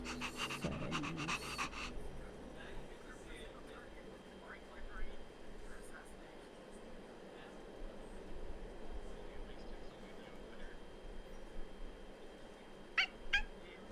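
In Honkai Star Rail, a dog pants steadily and quietly under low game ambience, with a brief burst of louder game sound at the start and a few sharp clicks near the end.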